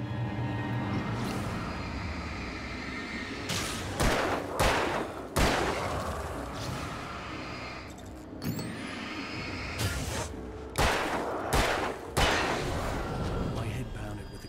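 Gunfire in the Alan Wake game, several loud close shots in pairs and clusters over a continuous rumbling ambient bed, with muffled voices faintly underneath.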